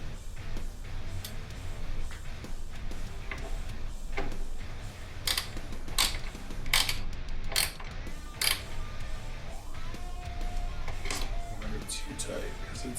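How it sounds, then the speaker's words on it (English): A small, fine-thread screw being driven into a smoked taillight, a close, repeated ratcheting and clicking of the driver in uneven bursts, with someone talking over it throughout. "Screw it in this side."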